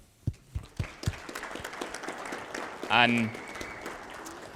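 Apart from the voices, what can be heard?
audience applause for a speaker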